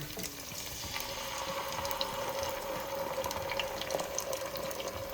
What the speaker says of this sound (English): we're going to add some water to the tomato can because we don't waste anything here